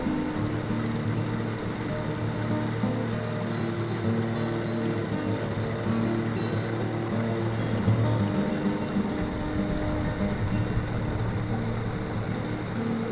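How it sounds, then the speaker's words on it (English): Water rushing into a spring pool fed by a stream re-emerging from underground at Werner Boyce Salt Springs State Park, a continuous, fairly loud wash of flowing water with a steady low hum and no talking. "you can hear the rush of water flowing into the spring pool"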